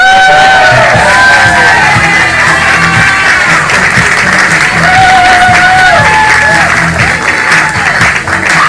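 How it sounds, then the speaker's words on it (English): A live show audience bursts into loud, sustained applause and cheering, with dense clapping, whoops and whistles rising over the crowd throughout. "Don't stop clapping! No one stop clapping!"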